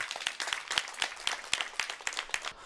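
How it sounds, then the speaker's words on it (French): Women in an audience clap for themselves at a Women's Day gathering, a brisk round of applause with distinct individual claps rising and falling throughout, moderately loud and close. "Si vous êtes là, applaudissez vous-même."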